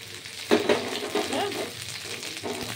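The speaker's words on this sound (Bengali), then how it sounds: "এই নারকেল কোড়াটা একটু ভাজা হবে। দেখুন মুগ ডালের সাথে নারকেল কোড়াটা ভাজা হবে।" Grated coconut frying in oil with mung dal, a close, steady sizzle with a few soft scraping stirs of the spoon through the pan.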